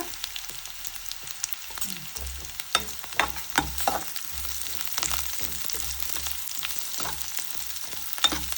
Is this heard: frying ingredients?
yes